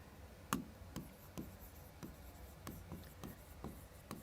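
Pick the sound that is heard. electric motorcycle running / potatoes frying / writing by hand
writing by hand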